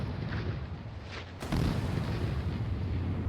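Incoming missile explosions in the naval warfare game Sea Power, a rumbling low boom that swells sharply partway through and keeps roaring, loud and heavy, with no talking.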